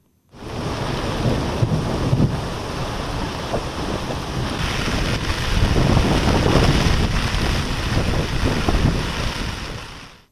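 Heavy rain pours steadily in a thunderstorm, with deep rolling thunder rumbling beneath it, on the coast at Kakkathoppu, Kollam in Kerala. The sound is dense, loud and continuous, swelling in the second half, and no one speaks.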